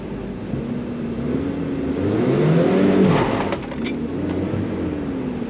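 A Toyota 4Runner engine revs hard during a burnout attempt, rising to a strained peak and then easing back to a steady roar, heard up close.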